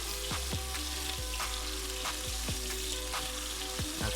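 Shrimp sear in a hot pan, with a dense, constant sizzle and a few soft knocks and pops, close and steady, with no talking.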